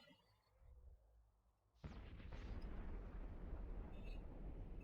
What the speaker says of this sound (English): Now they are using light missiles.